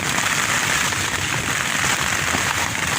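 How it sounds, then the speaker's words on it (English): Steady spring rainstorm in Ohio pouring onto surfaces, a dense, continuous hiss of rain, loud and close throughout with no speech. "Get a lot of rain, lots of storms, sometimes some violent weather too."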